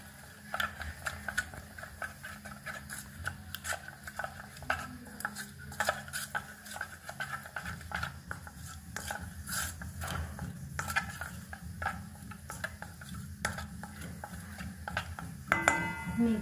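Chole masala being stirred and mixed with oil in a pan, with irregular scraping and clinking of a spoon against the metal pan, close and fairly quiet, with faint background noise.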